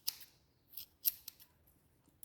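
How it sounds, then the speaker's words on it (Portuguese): School scissors trimming a pet's fur, a handful of quick, crisp snips spaced unevenly over a quiet background, close and fairly soft. "Eu tô usando uma tesoura de escola."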